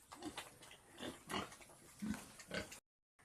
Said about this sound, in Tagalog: Ayan, yung isang baboy, oh.